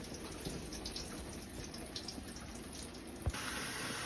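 Water running steadily from a camper's tap while pink RV antifreeze is purged from the lines during de-winterizing, a continuous faint hiss with a small knock near the end and no talk.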